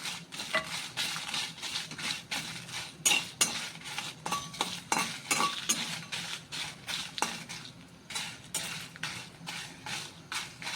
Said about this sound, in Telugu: దీంట్లోనే ఎండుమిర్చి వేయించుకుందాం